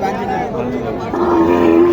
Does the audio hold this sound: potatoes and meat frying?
no